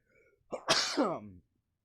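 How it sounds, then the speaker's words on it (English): A single sharp sneeze from one person, close and fairly quiet, with a brief intake of breath before it. "I gotta sneeze real"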